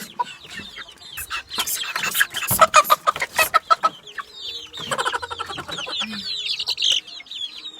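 Chickens clucking and squawking in a lively, irregular burst of calls, fairly close, with a few softer chirps mixed in.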